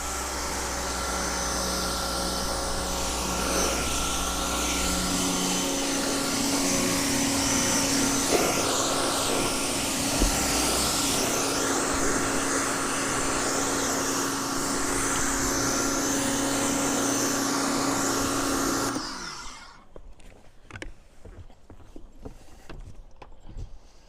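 A Greenworks electric pressure washer sprays in a loud, steady rush of water with an even motor hum for about nineteen seconds, then shuts off, leaving a quieter background with scattered light knocks.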